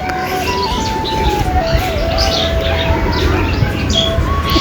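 Pigeons call amid the loud bustle of a rural market in Rajshahi, with chirps and coos over dense crowd noise and some thin whistling tones.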